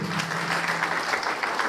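Steady audience applause at a political speech in the DRC, a brief burst of dense clapping heard from a moderate distance with no pause.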